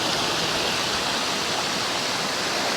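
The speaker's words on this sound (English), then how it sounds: "Gentle little waterfall. Cascading down" A gentle little waterfall spills beside the Lapworth locks on a canal, a steady, close rushing hiss of falling water with no breaks and no voices.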